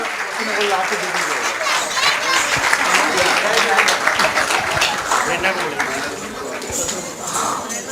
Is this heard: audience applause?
yes